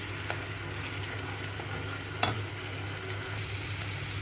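Soft, steady sizzling of onion, garlic and ginger paste frying in a pan, with a few faint clicks and scrapes of stirring, no voices.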